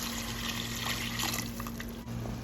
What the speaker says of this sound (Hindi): अब डालूंगी यखनी जो कि है 3 कप।